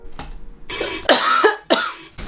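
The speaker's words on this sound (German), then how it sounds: "Und sie wird sicher jetzt gerade husten." A woman coughs several times in close, loud bursts, with short gaps between the harsh, throaty coughs.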